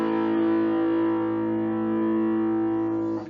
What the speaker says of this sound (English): by just simply taking out the third entirely using the first, fifth, and the octave, which sounds like this.